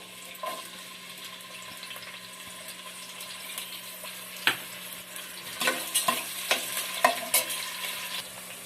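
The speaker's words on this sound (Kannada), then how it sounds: "ಕುಕ್ಕರ್ ಇಟ್ಕೊಂಡು ಎಣ್ಣೆ ಹಾಕ್ಕೊಂಡಿದ್ದೀನಿ. ಈಗ ಈರುಳ್ಳಿ ಹಾಕ್ಕೊಳ್ತಾ ಇದ್ದೀನಿ." Onions sizzle in hot oil in a pressure cooker on a stove while being stirred, a steady soft frying hiss with scattered scraping clinks of the spoon growing busier toward the end.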